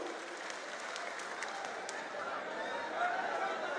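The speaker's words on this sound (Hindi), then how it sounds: "जोरदार तालियों से जीतू पटवारी जी को बुलाए।" Applause from a crowd at a farmers' justice march rally in Ujjain, a steady, fairly faint wash of clapping with a little chatter and chuckling mixed in.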